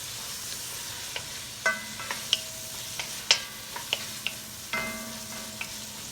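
Mushrooms cooking down in a pot for chicken tetrazzini give a low, steady sizzle, with scattered sharp clinks and scrapes of a utensil stirring against the pot, up close with no talk.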